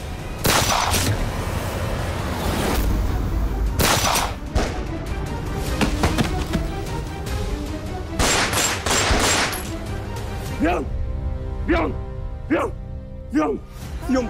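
Bursts of gunfire, loud and close: rapid volleys and single shots, with a voice shouting between them.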